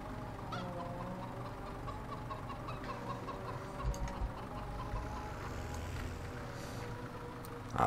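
Chickens cluck and squawk in the video game Farming Simulator 17 over a low tractor engine drone, several birds calling repeatedly at moderate volume with no speech.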